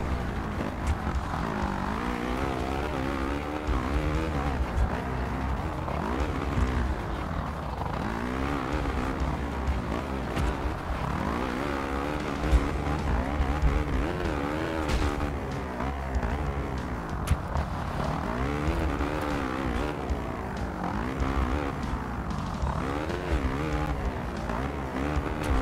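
Motocross dirt bike engine in the MXGP 2 video game drones steadily and loudly for the whole stretch, revving up and down in wavering pitch with no talk over it.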